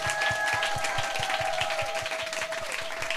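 Sustained audience applause at a gospel music event, dense and loud, with rhythmic unison clapping running steadily underneath the broad crowd noise, plus a faint sustained tone.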